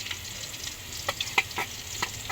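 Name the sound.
sautéing squid balls for pancit canton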